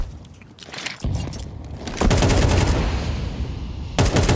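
Gunfire in Counter-Strike during a professional esports match, a string of loud, sharp shots and bursts coming close together, with the crackle growing denser toward the end.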